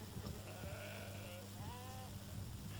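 Sheep and goats of a large nomadic herd in Inner Mongolia bleat a few times at moderate distance over a constant background rumble, the calls short and wavering.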